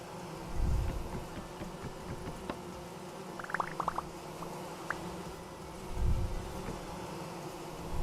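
Swarm of bees buzzing around wild hives in the video game Vintage Story, a low steady drone with a few brief higher buzzing tones rising and fading midway, moderately faint.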